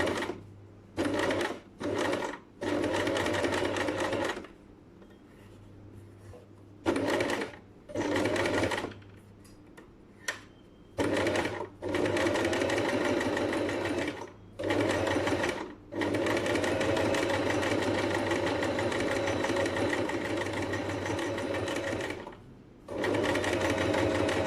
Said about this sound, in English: Okay, so I'm just going to sew.